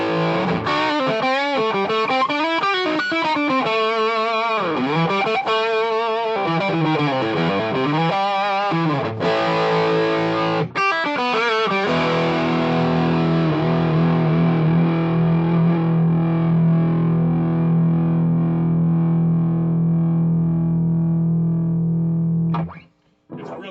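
Two guitar distortion pedals, a Hao Rust Driver and an OCD, set to sound alike and compared, with loud continuous overdriven guitar riffs and sustained chords ringing out, then cutting off at the end.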